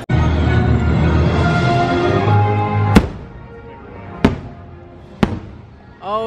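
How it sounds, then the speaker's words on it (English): Christmas fireworks at Disney's Mickey's Very Merry Christmas Party crackle and rumble, then three sharp booms ring out a second or so apart, each echoing away into the distance. "Christmas fireworks"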